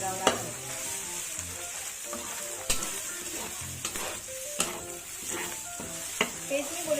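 Seafood char kway teow stir-fried in a wok with cooked sambal paste: a constant close sizzle punctuated by sharp scraping and clanking of a spatula against the wok at irregular intervals.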